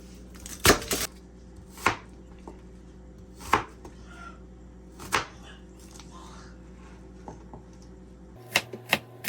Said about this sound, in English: Now we're going to chop up our onion.